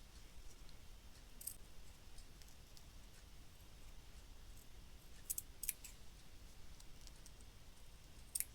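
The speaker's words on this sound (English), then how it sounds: "just taking tiny snips" Tiny snips of embroidery scissors cutting thread near red fabric in slow-stitch work: a few faint, sharp clicks spaced apart, with a double snip and a final one, over a quiet room hiss.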